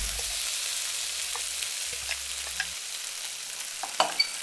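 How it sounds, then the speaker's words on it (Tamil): Ground onion fries and sizzles in a pan for Tamil roasted chicken curry, a steady hiss broken by a few soft scraping stirs and light clinks toward the end, with no talking. "வெங்காயம் நல்லா பொன்னிறமாக வர வரைக்கும் வதக்கணுங்க"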